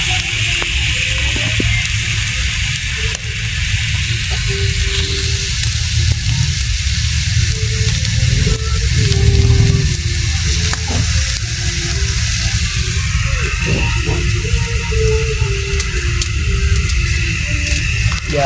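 Fish grilling over heat with a steady, close crackling sizzle that runs continuously, with occasional soft knocks and faint background voices beneath.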